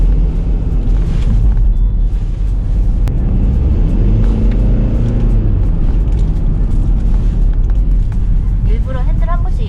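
A Mercedes GLK 220cdi diesel accelerating through gear changes, its loud, continuous engine and road rumble rising and settling across several shifts, with faint thuds mixed in.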